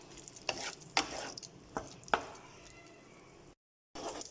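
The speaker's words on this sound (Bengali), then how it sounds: "টক দই দিয়ে দেওয়া হয়ে গেছে, ভালো মতন মিশিয়ে নিচ্ছি।" Dum aloo is stirred with sour yogurt in a pan over medium heat: a spoon scrapes and knocks against the pan several times in sharp, distinct strokes under a faint sizzle, with a short silent gap near the end.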